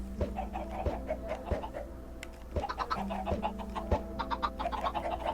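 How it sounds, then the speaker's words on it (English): Chickens cluck in the blocky video game Minecraft, their short repeated game sound effects popping up at irregular intervals over a steady low hum and faint background noise. "We got more chickens now, Danny."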